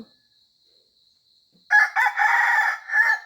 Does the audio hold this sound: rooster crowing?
yes